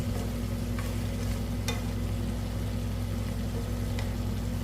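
Squash and string beans being stirred in a pot of melting frozen coconut milk: a steady, even sizzle and bubbling with a few faint clicks of a spoon on the pot, and no voices.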